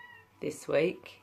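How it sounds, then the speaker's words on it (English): A house cat meows indoors, a short clear call and a longer drawn-out one close by, while a person talks in the same room. "That's my cat. She might make an appearance."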